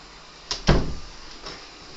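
A bedroom door is opened indoors, giving a short latch click followed by a louder thud and a brief, faint creak, close by and quiet overall.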